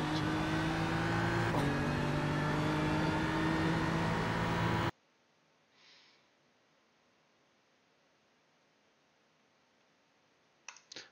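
A BMW M4 GT3 race car at Bathurst in iRacing howls at full throttle, loud and strained with a quick gearshift, then cuts off abruptly into near silence with a few faint clicks.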